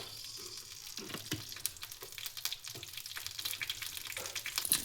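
Urad dal and asafoetida fry in oil in a pan with a soft, steady crackling sizzle, faint and close. Short clicks and scrapes of stirring come and go, and no one speaks.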